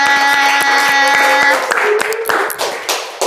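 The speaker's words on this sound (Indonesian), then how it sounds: "boleh dong tepuk tangan untuk teman-temannya Kakaknya" Students at a university computer science campus event clap in a brief burst of scattered, sharp hand claps over a sustained tone, with the clapping fading into room noise and some background voices.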